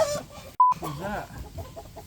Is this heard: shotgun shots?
no